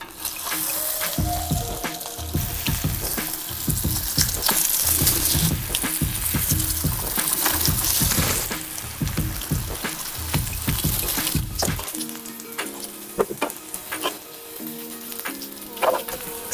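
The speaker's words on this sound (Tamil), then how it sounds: "ஆயில் நல்லா சூடானதும் இந்த கட்லெட்டுகளை போட்டுக்கலாங்க." Bread-crumbed sweet potato cutlets frying in hot oil in a pan, a steady close sizzle and crackle running throughout with occasional clinks.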